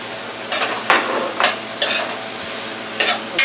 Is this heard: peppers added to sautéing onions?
yes